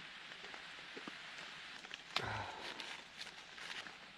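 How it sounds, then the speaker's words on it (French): Steady patter of rain on a surface with scattered drops, plus a brief louder thump midway; no talking. "Il pleut toujours."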